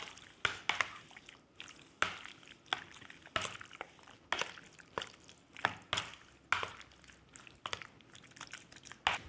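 Milk-soaked chicken pieces, seasoned with salt and black pepper for Korean sweet crunchy chicken, are tossed in a bowl, making soft wet squishes and crinkly taps in an irregular rhythm, close and fairly quiet.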